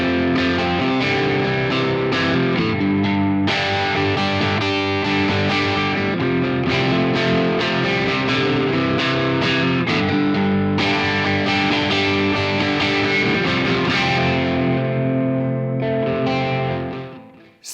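A Gibson Noel Gallagher Les Paul Standard electric guitar with Grover tuners plays through a Tone X amp capture, distorted strummed chords ringing loud and continuous before fading out at the end.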